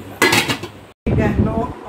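Sweet vermicelli cooked with egg and milk being served into a dish, with brief clinks of a utensil against cookware in two bursts around a short pause, close by and moderately loud.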